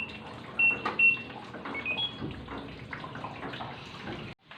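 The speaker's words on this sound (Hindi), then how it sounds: "देखा आपने, कितना सारा पानी बह गया" Water spilling over from an overflowing household tank, a steady broadband splashing rush with a couple of faint beeps early on, running until it cuts off abruptly near the end.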